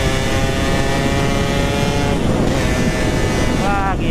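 Suzuki Satria Lumba motorcycle engine running loud and close, a steady buzzing drone that climbs in pitch near the end as it revs, with a voice briefly heard over it.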